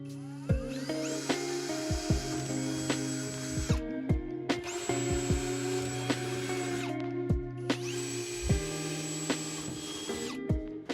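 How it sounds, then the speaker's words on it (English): A power drill boring holes into the bed of a Toyota Tacoma pickup to mount a storage box, whining in three long high-pitched runs that each spin up and wind down, with clicks and bumps in between, fairly quiet and close. "I now need to drill out a hole that will fit the hardware from the storage box."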